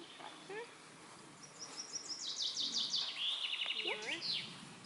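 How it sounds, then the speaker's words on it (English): Several birds chirp outdoors in a nature setting, quick rising and falling tweets and trills coming in short bursts, fairly faint against a quiet open-air background. "More birds."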